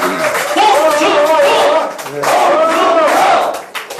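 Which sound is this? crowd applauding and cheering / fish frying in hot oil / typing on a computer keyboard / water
crowd applauding and cheering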